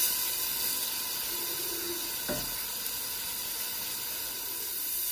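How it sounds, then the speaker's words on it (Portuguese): Chicken for a fricassee sautéing in a pan, a steady low sizzle and hiss running throughout with a brief louder clatter midway, no voices. "Vou refogar aqui um pouco, mais ou menos 2 minutos."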